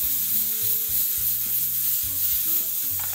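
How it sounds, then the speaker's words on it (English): A utensil stirs onions in a hot pan, scraping caramelized bits off the bottom, with repeated close scraping strokes over a continuous sizzle. "I'm using this to kind of lift all those caramelized bits off of the bottom of the pan and mix them with the onion"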